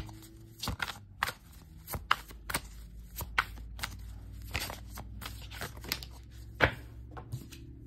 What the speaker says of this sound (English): Why is it like I'm shuffling upside down?